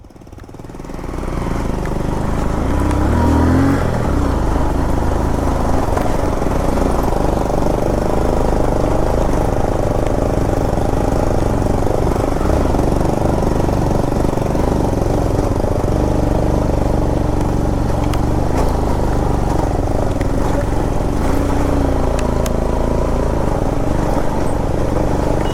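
A motorcycle climbs off-road toward Metkal Gudda in a low gear, its engine roaring loud and close in a steady, unbroken drone.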